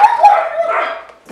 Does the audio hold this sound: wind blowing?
no